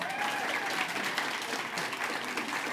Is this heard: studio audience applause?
yes